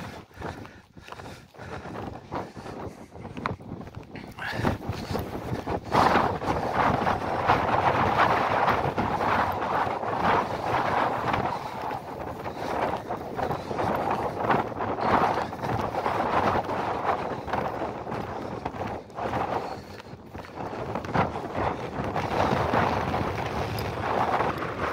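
Strong wind buffets the microphone on a mountain trail in the Tatra Mountains, between Szpiglasowy Wierch and the Valley of the Five Polish Ponds in December, a steady roaring rush with gusty surges, close and loud throughout.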